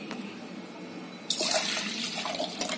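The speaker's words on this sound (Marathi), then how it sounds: "याच्यामध्ये पाणी घालते" Water pours into freshly squeezed lemon juice, a soft watery trickle starting partway through and running steadily to the end, fairly close and moderately loud with no talking.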